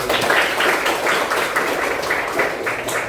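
A class of students clapping their hands together in a classroom: loud, close clapping in a fairly regular pulsing rhythm that continues steadily throughout, with no speech over it.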